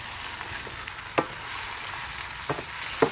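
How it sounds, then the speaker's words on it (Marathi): Stuffed tomatoes fry in masala in a pan, giving a steady sizzle with occasional sharp stirring scrapes and clinks, close and without speech. "हे टमॅटो आपण आहे ना मसाला बरोबर चांगलं असं परतून घेतलेले आहे"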